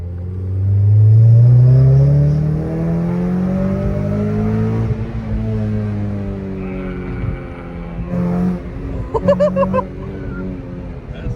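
A modified Honda engine revs up with a deep, loud rumble, then settles into a throaty idle with a few sharp pops near the end.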